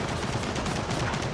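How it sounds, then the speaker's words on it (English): Rapid mounted machine gun fire from a troika turret in the video game Gears of War 4, a short dense burst of loud repeated shots. "There's a troika straight ahead of me."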